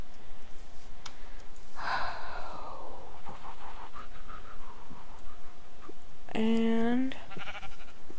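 A flying sheep mob in a modded Minecraft video game lets out a single drawn-out bleat near the end, rising slightly in pitch, after a brief spoken word over quiet game ambience.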